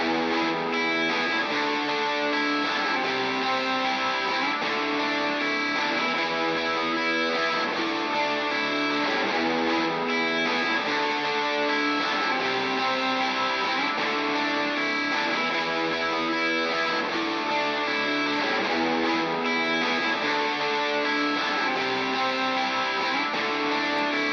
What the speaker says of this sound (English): the guitar on the left will be going through the left reverb